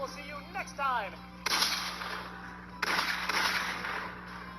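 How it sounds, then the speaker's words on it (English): Gunshot noises in a game show game: two loud, sharp bursts about a second apart ring out after a short spoken voice, each with a broad noisy tail. "Why is it making gunshot noises?"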